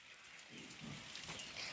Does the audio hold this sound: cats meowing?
no